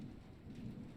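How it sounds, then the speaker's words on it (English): Heavy rain pounds against a ship's windows while thunder rolls underneath, a brief, faint, continuous storm roar with no voices. "Heavy rain beats down on the windows as the ship sails southbound."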